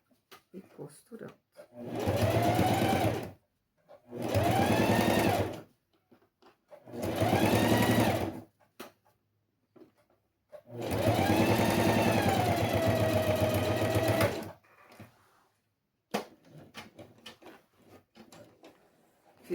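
A sewing machine runs in four distinct bursts, topstitching a fabric box at an increased stitch length of 13.5, its steady mechanical whir loud and close, with short pauses between runs and the final run longest, followed by quiet handling sounds.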